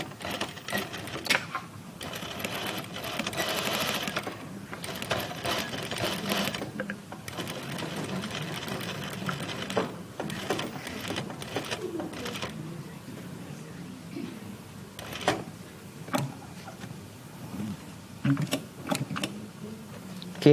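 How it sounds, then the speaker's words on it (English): A sewing machine runs a back stitch in bursts of whirring and clatter, starting and stopping several times, with short pauses between runs and no talking. "Okay, I'll do a back stitch first."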